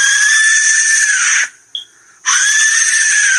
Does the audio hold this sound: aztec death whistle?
yes